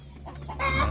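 Chickens clucking close by in a brief burst in a coop, a few short throaty calls rising in loudness at the end.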